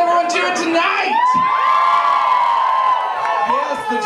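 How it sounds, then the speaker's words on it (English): Audience at a live band show gives a quick cheer, a burst of whoops and high yells from a crowd, loud and close, briefly rising and fading. "a quick cheer"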